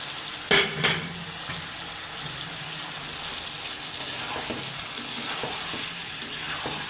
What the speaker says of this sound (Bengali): এখন এই কষানোর শেষ পর্যায়ে আমি পেঁয়াজটা দিয়ে দেবো।